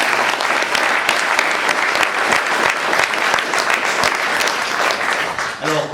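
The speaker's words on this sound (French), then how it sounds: "Donc on va les applaudir aussi, un grand merci." Audience at a talk on the reception of Vatican II in the Diocese of Nice applauds, giving dense, steady clapping from a full room that stays loud throughout.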